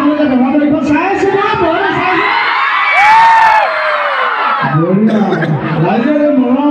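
Crowd cheering and shouting at a Bihu program in Kenduguri, Jorhat, a loud sustained mass of voices with whoops and yells rising to a peak, close and dense throughout.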